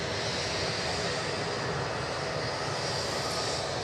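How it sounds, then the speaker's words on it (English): An Airbus A321neo jet passes a few dozen feet away at a DFW runway, a loud, steady broadband engine roar that fills the whole moment without letup. "Comes an Airbus A321neo just a few dozen feet in front of us."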